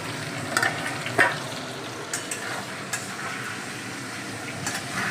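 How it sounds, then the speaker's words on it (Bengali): Potatoes fry in a pan with a continuous gentle sizzle, broken by a few sharp crackles and light clinks of utensils. "আলু ভাজা চলছে।"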